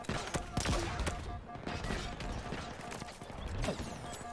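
Turret gunfire rattles in Halo Infinite, a dense run of rapid shots with sharp cracks scattered across the whole stretch, loud and close, with game noise and a voice mixed in.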